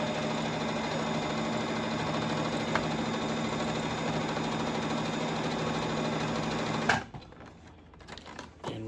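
Sewing machine stitching a crash bag, a loud, steady close-up whir of rapid needle strokes running for about seven seconds before stopping abruptly, leaving faint room noise with no talk.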